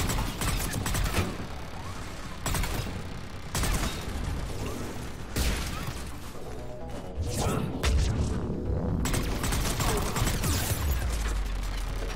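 Mass Effect 3 turret gunfire pounds almost without pause, with dense, harsh bursts and impacts that keep swelling and easing over a noisy battle backdrop.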